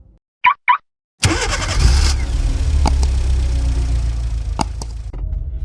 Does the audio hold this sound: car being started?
yes